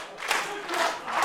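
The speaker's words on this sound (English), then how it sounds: "Crowd are firmly behind him" A wrestling crowd at an independent pro wrestling show cheers and roars in a broad, sustained swell, rising and falling over a brief moment as the noise fills the arena.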